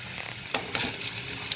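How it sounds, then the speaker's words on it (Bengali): Pointed gourd (potol) frying in oil in a pan, a steady close sizzle with a few brighter crackles and stirring scrapes, alone with no talk. "পটলটা ফ্রাই করে আমি তুলে নিই।"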